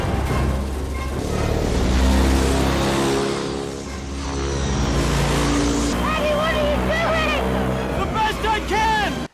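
A motorboat engine drones steadily in a film scene, loud and continuous for most of the stretch, while voices shout and talk over it.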